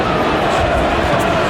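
Bristol Rovers supporters at a Blackpool match make a dense, loud crowd roar that holds without a break.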